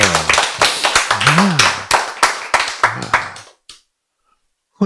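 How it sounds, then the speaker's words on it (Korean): Audience clapping during a Korean Bible lecture: a quick run of sharp, fairly even claps for about three and a half seconds with voices mixed in, then it cuts off to near silence. "박수."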